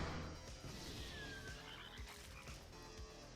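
A card game's Rain of Frogs effect gives a dense chorus of frog croaks, faint and continuous throughout, with many overlapping calls and no talk.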